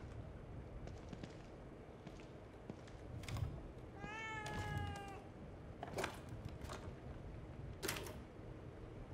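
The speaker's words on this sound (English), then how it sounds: "I see the cat. Can hear him crying." A cat in the video game The Evil Within 2 gives one clear, drawn-out meow with a wavering pitch, moderately close against quiet ambience, with a few short clicks and knocks around it.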